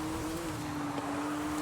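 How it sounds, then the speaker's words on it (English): A Porsche's turbocharged engine holds a steady high rev in the racing game Forza Horizon 5, a continuous droning whine at near-constant pitch over a rough rumble, playing alone without speech. "my turbo is just revving its nuts off"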